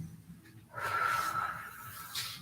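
A single slow, deep breath during a gentle yoga flow, heard as a soft, airy exhale that lasts about a second and a half, close and fairly quiet.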